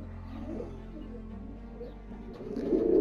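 Soft, low cooing from a racing pigeon, a close, murmuring throaty coo rising in loudness toward the end, with faint room noise behind.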